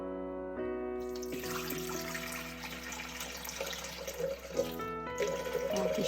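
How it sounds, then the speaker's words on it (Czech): Half a litre of water pours into a Thermomix bowl, a steady running-water rush close by with a mechanical hum beneath, lasting several seconds without talk. "do nádoby dáme půl litru vody"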